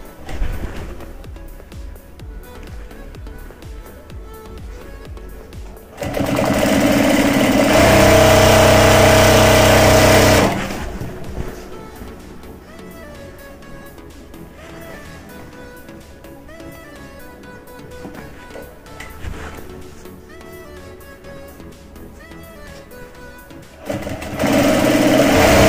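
An electric sewing machine stitches an army uniform pocket in a tailoring setting, with one loud, steady run of about four seconds standing out from a quieter background hum.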